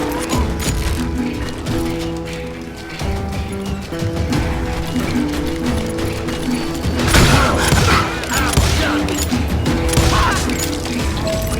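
Rapid gunfire in Call of Juarez: Gunslinger rattles in dense, clattering volleys with thuds and impacts, growing heavier toward the end over a low musical backdrop.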